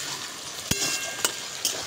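Tomato paste frying and being stirred in a pan after ginger and garlic, giving a steady sizzle with three sharp spoon scrapes against the pan, close and alone.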